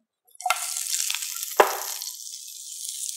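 Onions hit hot oil in a pan for a Dum Aaloo dish and burst into a loud, hissing sizzle with a sharp clatter as they land, then settle into a steady crackling fry.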